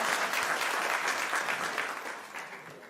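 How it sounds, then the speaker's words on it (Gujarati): An audience at a farmers' event in Rajkot applauds steadily to welcome a politician, a dense wash of clapping that slowly fades toward the end. "એમનું એકવાર જોરદાર તાળીઓથી સ્વાગત કરીએ"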